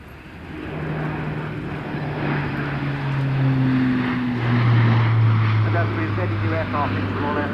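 An Airbus A400M military transport flies past at an air show, its droning propeller engines swelling gradually louder with steady low tones beneath a commentator talking over the sound.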